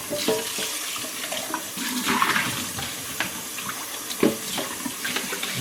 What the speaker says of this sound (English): Rinse out my container here.